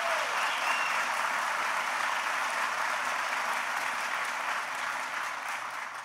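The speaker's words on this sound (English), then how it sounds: "Please give Evan a big round of applause." A large crowd applauds Senator Evan Bayh at an event in Wakarusa, Indiana, with steady, dense clapping that holds for several seconds and tapers slightly at the end.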